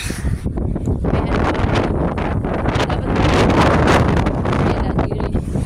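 Strong wind roars and buffets the microphone continuously on treeless White Island, a loud rushing gust with no letup.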